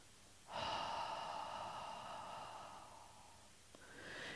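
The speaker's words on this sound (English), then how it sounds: "we will actually vocalize our exhale by making a really soft ha sound" After a short pause, an ujjayi pranayama exhale begins: a soft, airy ha sound that is close and sustained for about three seconds and tapers off. A faint new breath follows.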